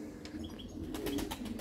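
A pigeon takes flight outside its loft, a short, close burst of rapid wing flapping, faint at first and then louder.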